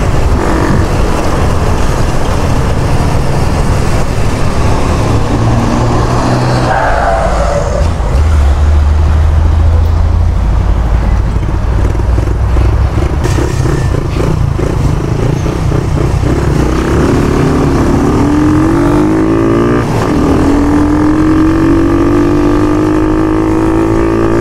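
A car engine revs hard while driving into a strong headwind, a loud, continuous roar whose pitch rises and falls, with heavy wind buffeting and road noise throughout.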